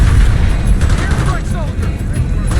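Airstrike blast in the Call of Duty Black Ops 6 campaign: a loud, sustained booming rumble with crackling debris, masked by dense battlefield noise and voices.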